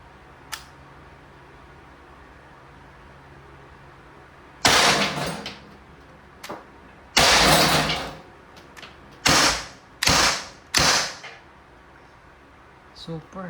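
Umarex TR50 .50-caliber airgun firing rubber ball rounds, a string of loud, sharp reports, one then several in quick succession, with a short word spoken between shots.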